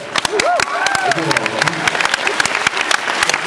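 Audience applause at a Supernatural panel at San Diego Comic-Con 2008, a crowd of steady clapping and cheering in a large hall, with people talking over it.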